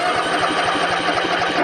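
Engine of a Gravely ZT HD zero-turn mower, blades off, running with the throttle opened, a loud, steady, close mechanical drone with a rapid pulsing beat throughout.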